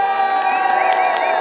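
A crowd at a New York City council rally cheers and shouts loudly and steadily, with raised voices blending into one dense, sustained roar.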